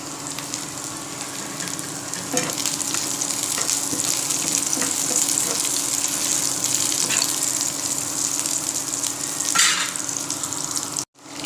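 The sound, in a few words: egg frying in a pan for egg Maggi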